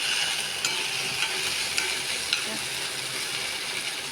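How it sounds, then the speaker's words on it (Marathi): Cumin, green chilli and ginger-garlic paste sizzle steadily in hot ghee, a dense crackling hiss with a few sharp spits and stirring clicks, close and fairly loud, with no voices. "तुपात चांगली मिरची ही आता परतून घेतली आणि आलं लसूण पेस्ट पण परतून घेतली"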